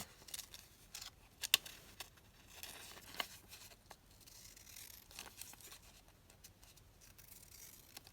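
Scissors snipping around a paper craft kit piece, a series of quiet, close crisp cuts in irregular bursts with light paper rustling between them, no talking.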